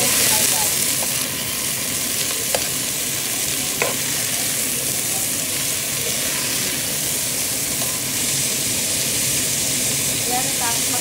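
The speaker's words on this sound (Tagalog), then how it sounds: "igisa natin yung sitaw guys." String beans sautéing in a pan for corned beef sinigang, a steady close sizzle and hiss with a few light clinks of a utensil stirring, continuous throughout.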